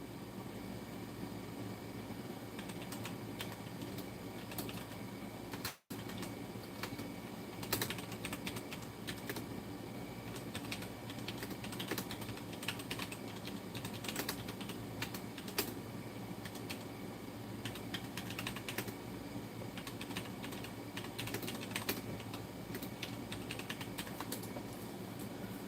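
Steady typing on a computer keyboard with quick irregular key clicks over a constant background hiss and hum, with one brief dropout, and no one talking.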